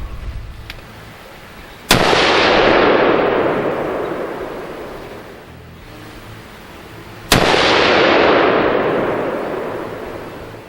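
Two loud rifle shots from a Desert Tech HTI rifle, each a sharp crack followed by a long rolling echo that fades over several seconds, spaced about five seconds apart.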